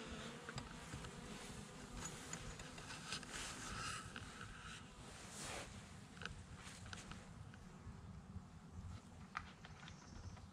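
A small wintering honeybee colony hums inside its hive during a New Year's winter check, a faint, continuous low buzz with a few soft knocks.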